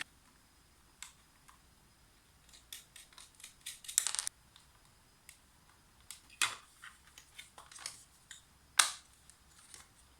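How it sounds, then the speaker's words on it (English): Allen keys are handled and clipped into place at close range, making scattered light metallic clicks and ticks in small bursts with quiet pauses between. "Okay, Allen keys."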